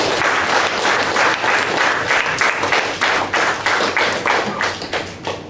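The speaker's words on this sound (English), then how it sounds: "A big round of applause for all the speakers." An audience at a club meeting applauds the speakers, a dense, loud burst of clapping that holds steady and then thins toward the end.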